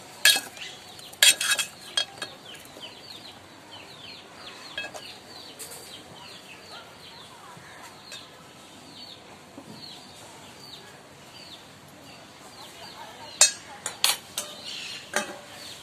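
Small chicken pieces cooking in a pot, with intermittent scraping and clinking of a metal spoon stirring against the pan, over a faint sizzle and soft background noise.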